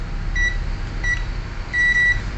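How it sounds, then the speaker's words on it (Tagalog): A multimeter's continuity buzzer tests a shorted Palit RTX 2060 Super graphics card, giving three separate electronic beeps, with the last one held longer, over a steady low hum. "Kailangan meron tayong buzzer dito."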